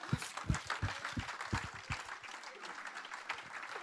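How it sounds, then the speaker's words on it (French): An audience at a French-language Bible teaching session applauds with brisk, scattered clapping up close that fades after about two seconds into lighter, thinning claps, with no voices over it. "Est-ce qu'on peut l'acclamer"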